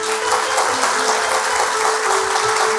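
A church congregation applauds together, a dense, loud, continuous wash of clapping from many people that runs the whole time without a break.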